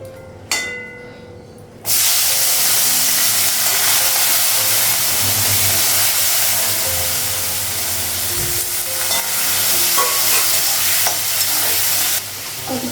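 Onions and spices with small cardamom sizzle steadily in a pan for cooking taro and egg curry, a loud continuous frying hiss with occasional stirring scrapes, starting after a quieter opening and carrying on without talk.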